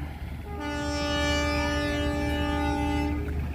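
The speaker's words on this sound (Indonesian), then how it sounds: "Kereta api Kuto Jaya Selatan diberangkatkan dari stasiun Nagreg." A Kuto Jaya Selatan passenger train departing Nagreg station sounds a loud, sustained horn blast of about three seconds, steady and close, over a low rumble of the train.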